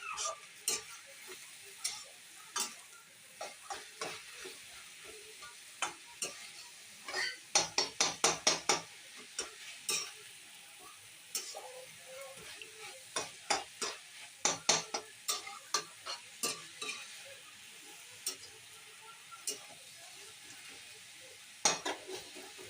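A moringa leaf stir-fry is stirred in a pan, with quiet scraping strokes arriving in irregular bursts over a soft, steady sizzle.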